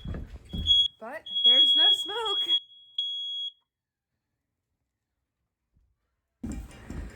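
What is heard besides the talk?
smoke alarms beeping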